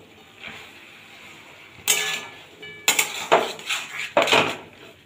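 Metal spoon scraping and clattering in a pan as spice paste is stirred into prawns and Malabar spinach greens, a few loud bursts after a quiet start.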